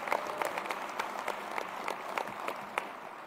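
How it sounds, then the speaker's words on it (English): Audience applause during New Jersey Governor Phil Murphy's second-term inauguration speech, scattered distinct claps sounding faint and distant, with a few sharper individual claps standing out. "Shamelessly fishing for applause there."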